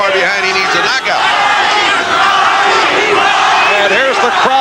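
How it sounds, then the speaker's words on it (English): At a 1983 super featherweight title boxing match, the arena crowd chants for Chacon in a loud, sustained roar, with voices rising and falling together. "here's the crowd again chanting for Chacon"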